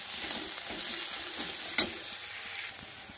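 Chopped green chillies fry in a hot spice mix while being stirred, giving a steady soft sizzle with light scraping and one brief clatter partway through, close and alone.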